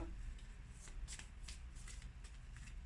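Tarot cards shuffled and drawn during an Aries reading: soft, close riffles and light card flicks in a quiet room, a few crisp snaps standing out.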